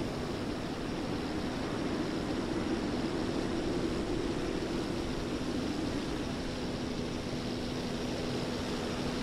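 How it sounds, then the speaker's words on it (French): A propeller airplane engine in the submarine video game Silent Hunter 3 drones as a steady, faint hum over a broad hiss, unchanging for the whole stretch with no voices. "Oh, c'est un avion."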